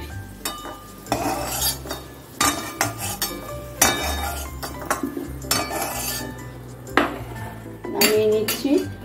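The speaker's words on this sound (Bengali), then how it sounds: "এবার আমি আলুগুলো কড়াই থেকে নামিয়ে নিচ্ছি।" Metal utensils scrape and clink against a wok as fried potatoes are lifted out of the oil, irregular clattering with a low background hum.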